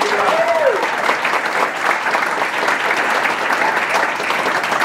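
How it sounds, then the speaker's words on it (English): Guests at a LULAC-AARP celebration luncheon in Phoenix give LULAC a round of applause, a full, steady roar of clapping from a crowded room, with a brief voice or whistle rising at the start. "Let's give them a great round of applause."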